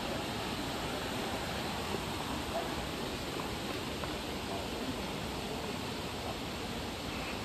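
A riverside stream flows in a steady, even rush of broadband water noise that fills the whole stretch without pauses, close and constant.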